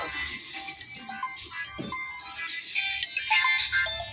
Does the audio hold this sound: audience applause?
no